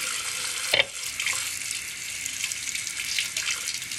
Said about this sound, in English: I'm going to wash the rest of my concealer brush because I don't want it to be unsanitary